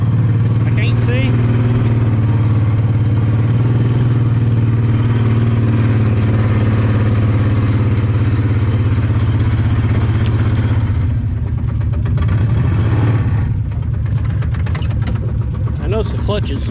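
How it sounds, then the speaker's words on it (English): A Kawasaki Mule 2510 utility vehicle runs with a steady, loud engine drone and a rattling clutch, close up, the tone shifting near the end as the engine note drops. "I notice the clutch is noisy."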